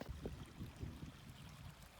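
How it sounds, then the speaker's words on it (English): A small babbling creek on a spring day hike in Southern Kananaskis, Rockies, gurgles in a steady, low, close wash with no pauses and no voices. "I always enjoy walking along a stream or a creek. I love that little babbling sound."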